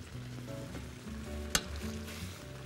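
Fish frying in hot oil, a steady close sizzle broken by a single sharp clatter as the pieces are flipped, with a low hum underneath.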